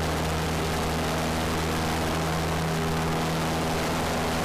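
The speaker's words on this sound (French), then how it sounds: "l'avion veut décoller" A light airplane's engine roars steadily at full power during the takeoff run, a loud, constant drone with a low propeller hum filling the cabin, and no talk.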